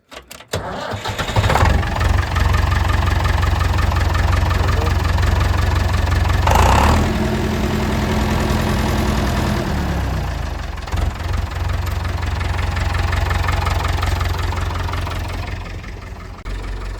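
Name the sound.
diesel tractor engine idling after starting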